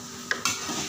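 Sumenep shallots frying in hot oil, a steady close sizzle with a couple of brief clinks or stirring scrapes from the pan.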